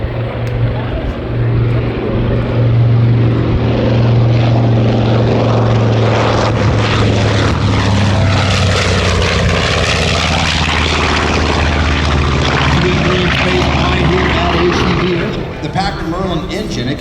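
A propeller warbird with a Merlin engine flying at the Rumble Over The Redwoods airshow, a loud sustained droning roar with a steady low engine hum that swells as it passes close by.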